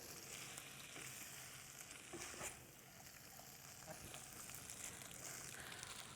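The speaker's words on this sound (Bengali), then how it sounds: "এই মিনিট খানেকের মতো নাড়ানাড়ি করেই আমি বন্ধ করে দিব।" Capsicum sizzles and fries in a pan for chicken masala pasta while being stirred, a steady crackling hiss with scraping stir sounds, close and quiet.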